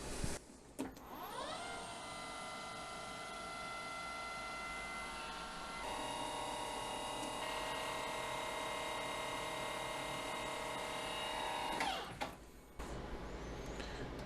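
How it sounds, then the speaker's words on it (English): A lathe spot drilling, a steady machine whine with a strong tonal hum running for about eleven seconds, starting and stopping abruptly, close and fairly loud, with no talking. "Spot drilling."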